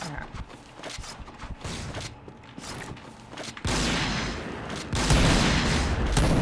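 Sniper rifle fire in PUBG comes as loud, crackling gunshot bursts that grow heavier in the later seconds, over a busy game background.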